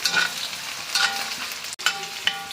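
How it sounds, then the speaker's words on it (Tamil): Chutney ingredients frying in an iron kadai: a continuous close sizzle with repeated scraping stirs of a spoon against the metal, no talking. "நல்லா ஃப்ரை பண்ணிக்கணும், அப்போ தான் நல்லா டேஸ்ட்டாக இருக்கும்"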